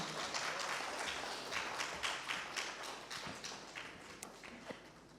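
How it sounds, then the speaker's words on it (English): Fairly faint audience applause at a startup brand-building workshop at INFOCOM 2022, a steady patter of claps heard from a distance and slowly tapering off. "A round of applause, everyone."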